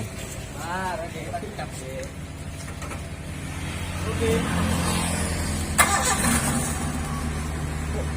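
A Renault Espace 1300 cc car engine fitted with an aftermarket exhaust runs steadily nearby, swelling louder partway through with a sharp burst of exhaust noise, while people talk over it.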